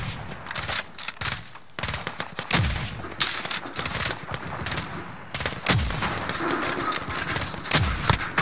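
Gunfire in a battle royale video game, with repeated bursts of automatic fire and single loud shots, some near and some farther off, coming in uneven clusters over about eight seconds.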